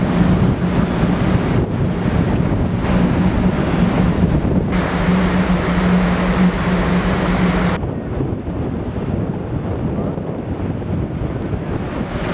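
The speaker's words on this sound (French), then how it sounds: "il faut quand même trouver une place à l'abri du vent" Wind buffets the open sundeck of a Hurtigruten coastal ship, a loud steady roar mixed with rushing water and sea noise, continuous for the whole stretch with a low hum underneath.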